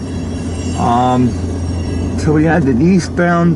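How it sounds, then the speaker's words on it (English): A loaded coal freight train rolls past on a railroad in freezing winter weather, a loud continuous rumble with squealing wheels and horn-like tones, while someone talks over it. "now we have this lovely southbound coal drag going down the St. Joe stub"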